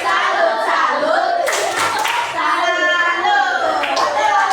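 A classroom group doing a rhythmic salute clap together, bursts of many hands clapping mixed with children's and adults' chanting voices, loud and close throughout.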